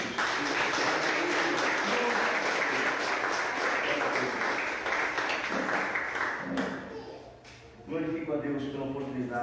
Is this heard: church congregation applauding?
yes